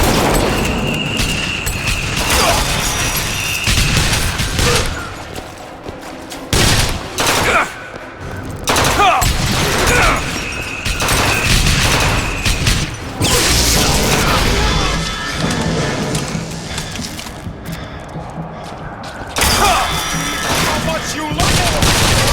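Video game gunfire in Bioshock Infinite: Burial at Sea, loud repeated bursts and rapid volleys with booms, recurring throughout with talk between shots.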